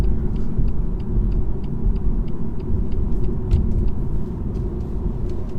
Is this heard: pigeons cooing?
no